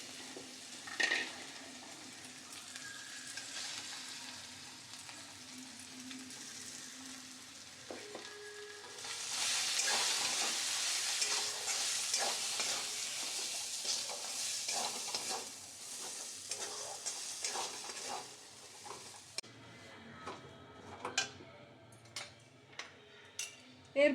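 Ground green pea paste is frying in a pan for a khasta kochuri filling, giving a quiet continuous sizzle with repeated stirring scrapes. A few sharp spoon taps against the pan come near the end.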